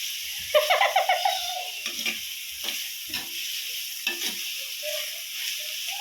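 Chicken curry being stirred in a clay pot, with scraping strokes against the pot over a steady low sizzle, loud at first and then quieter, irregular scrapes repeating.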